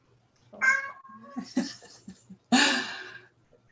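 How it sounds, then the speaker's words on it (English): A pet cat meows several times close by, drawn-out and varied calls with soft breathing sounds between them. "There's my cat come to say hello."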